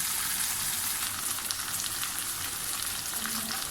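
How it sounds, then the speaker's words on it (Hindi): Okra (lady finger) frying in hot oil gives a steady, even sizzle that holds on without a break, close and fairly loud, with no voices over it. "भिंडियाँ हमारी फ्राई हो रही हैं।"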